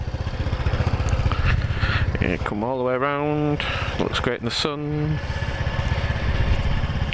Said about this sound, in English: Leave the engine running.